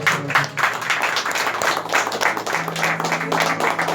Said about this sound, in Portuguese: As palmas louvem e engrandecem.